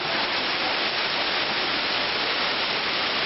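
A steady, dense rush of falling water fills the clip, a constant broadband roar with no pauses or voices, from Manyava Waterfall in Prykarpattia, Ukraine.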